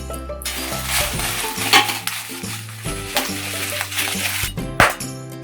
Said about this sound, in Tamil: கொஞ்சம் வரமிளகாயை அதில் சேர்த்துட்டேன்.